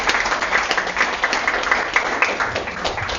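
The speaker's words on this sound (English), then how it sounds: "Give a warm applause." Audience applause at a live talk event, a dense steady wash of many hands clapping close and loud throughout.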